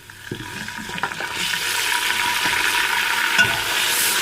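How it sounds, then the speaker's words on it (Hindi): Fried onions with freshly added garlic in a pan for aloo chicken, with a few stirring clatters at first, then a steady hissing sizzle that holds loud and close. "लहसुन ऐड करने के बाद इसको थोड़ा सा और फ्राई करेंगे।"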